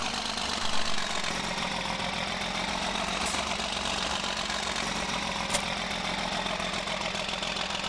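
A tractor engine in Farming Simulator 2013 idles steadily and roughly throughout, a constant chugging rumble with a couple of faint sharp clicks.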